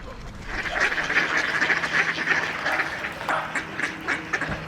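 A flock of ducks quacks continuously in busy woodland, a dense chorus of overlapping calls at moderate distance that keeps going throughout.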